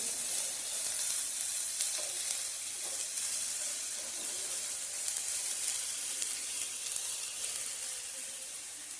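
A milk mixture for fried modak roasting in a pan gives off a dense, steady sizzle with faint stirring scrapes, close and even throughout, no talking.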